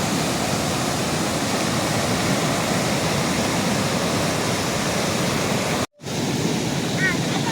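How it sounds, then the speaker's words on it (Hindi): A river in flood after record-breaking rain in Sirmour, Himachal, roars as a dense, steady rush of water that fills the scene, with a brief dropout near the end. "तो देखो जी यहाँ तक नदी लग चुकी है।"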